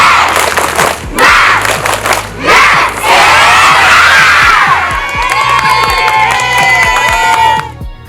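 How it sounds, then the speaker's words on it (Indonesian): A class of schoolchildren doing a rhythmic spirit clap with teachers, loud crowded shouting and cheering mixed with chanting voices and clapping, close and energetic throughout. "Tepuk semangat!"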